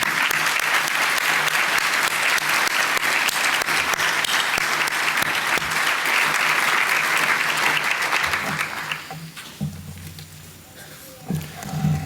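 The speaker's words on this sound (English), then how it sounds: "Let's give them another round of applause." Dinner guests at a pro-life banquet give a long, dense round of applause for Mark and Kelly, which thins out and dies away toward the end with faint room noise.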